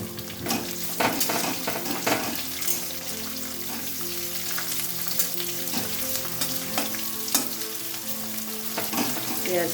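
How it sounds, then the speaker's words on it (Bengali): Chopped onions fry for sambar dal in a pan, a dense continuous sizzle with repeated spatula scrapes and stirring taps, close and steady throughout. "পেঁয়াজটা একটু ভাজা ভাজা হবে।"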